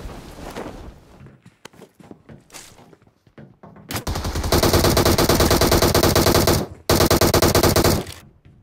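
Gunfire in the video game PUBG, scattered shots and clatter at first, then long loud sustained bursts of automatic fire with a brief break before a final burst.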